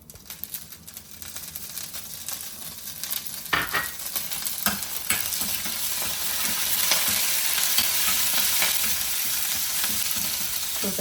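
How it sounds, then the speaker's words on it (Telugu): Curry leaves and chilies spit and sizzle in hot oil with chana dal for a tempering, a steady close crackle with sharp pops that build as the frying intensifies, and no talk over it. "చూసారు కదా, కరివేపాకు వేస్తే తిప్పట్లాడుతూ తేలుతూ ఉంటుందండి."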